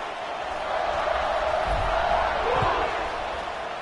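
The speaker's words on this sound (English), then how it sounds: "this crowd now ready to get behind them" A football stadium crowd roars in a broad, sustained wash of noise before a kickoff, swelling slightly through the middle, with a few muffled thumps underneath.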